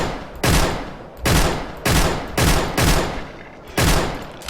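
Weapon fired off burst mode in the Project Crypt game: six loud, separate gunshot blasts spaced about a second apart, each with a short decaying tail, heard alone without talk.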